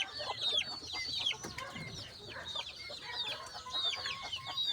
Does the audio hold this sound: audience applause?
no